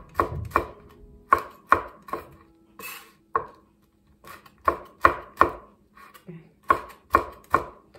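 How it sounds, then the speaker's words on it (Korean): A knife chops jujubes and chestnuts crosswise on a board, about fifteen close, sharp thuds in an uneven rhythm with brief pauses between strokes, no talking, while making soft, crisp glutinous rice yakgwa. "이렇게 가로로 썰어 보겠습니다"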